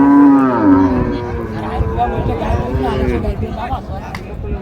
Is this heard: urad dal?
no